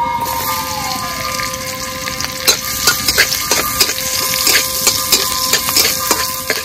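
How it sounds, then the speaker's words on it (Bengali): Crushed garlic and radhuni spice sizzle in hot oil, a constant close frying hiss punctuated by sharp clinks and scrapes of a stirring spoon against the pot. "রাঁধুনি ফোড়ন দিয়ে দেবো, থেতো করা রসুন"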